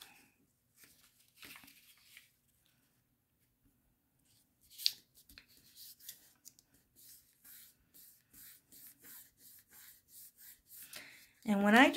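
Paper is creased and folded by hand in a craft project, with scattered soft rubbing and crinkling followed by a steady run of short swipes, ending in a louder rustle.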